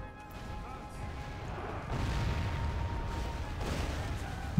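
In a Third Age: Total War Divide and Conquer siege battle, ballista and catapult shots land as a series of distant dull crashes and booms, spread across a steady battlefield rumble.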